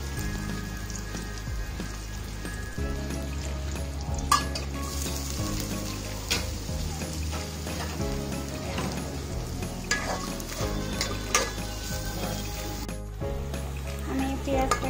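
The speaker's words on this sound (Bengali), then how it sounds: "আমি পেঁয়াজটাকে ভেজে নিচ্ছি পেঁয়াজের কাঁচা মরিচটাকে হালকা ভেজে নিচ্ছি" Chopped onions and sliced green chilies fry in hot oil for a deshi-style sor puti fish dish. A continuous close sizzle runs under a talking voice, with occasional clinks of a spoon against the pan.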